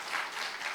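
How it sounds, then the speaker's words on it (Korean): A short burst of faint, distant-sounding applause from an audience at a product talk, with no voices heard. "박수 한번 쳐주세요"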